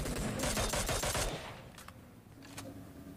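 A rapid burst of gunfire from a Scout gun in a video game, a loud run of closely spaced shots that cuts off and leaves a couple of fainter single reports after it.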